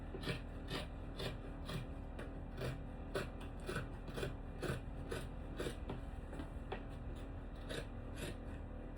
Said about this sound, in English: So I'm going to trim to make everything line and equal.